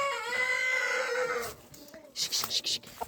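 A rooster crows loudly on a farm, one long drawn-out call up close, followed by a few quick rustling and clucking sounds from the poultry yard.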